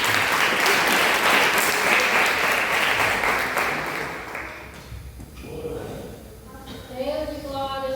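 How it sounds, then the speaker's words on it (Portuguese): A church congregation claps loudly and continuously for several seconds while a voice talks over it, then the clapping thins out as speech and a few tonal notes take over. "bate palmas bem forte para o Senhor"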